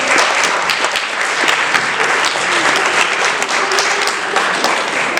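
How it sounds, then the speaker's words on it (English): Sustained round of applause from an audience at a community gaming event, thick and even clapping from many hands, loud and continuous for several seconds with no speech over it. "Give a round of applause."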